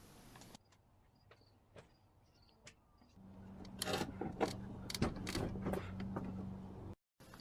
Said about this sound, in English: I attached a ratchet to get it back into position